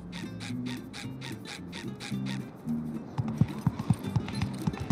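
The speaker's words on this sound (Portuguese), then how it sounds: "Andar de cavalinho." Horse-riding clip-clop plays in the SpongeBob The Cosmic Shake video game over a looping game music bed. Hoof taps start faintly and grow into a quicker series of sharper, louder beats toward the end.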